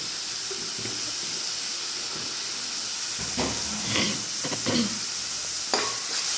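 Tomatoes are stirred and mashed in a frying pan for veg keema masala, with a soft steady sizzle and several scraping, squishing strokes toward the end.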